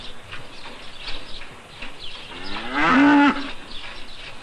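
One dairy cow on an Italian farm gives a short, strong moo near the end, preceded by quiet barn sounds and faint shuffling.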